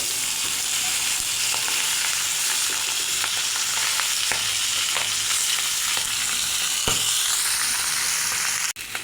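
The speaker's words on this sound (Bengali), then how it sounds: "মাছের এক পিট ভাজা হয়েছে এখন উল্টিয়ে দেব" Tengra fish fries in mustard oil with a dense, continuous sizzle heard up close, while scattered clicks and scrapes mark the pieces being turned over in the pan.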